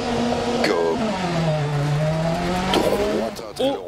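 A Lancia 037 rally car in DiRT Rally 2.0 launches and accelerates hard, its engine note climbing and dropping through gear changes with brief tire scrabble, loud and close while someone talks excitedly over it.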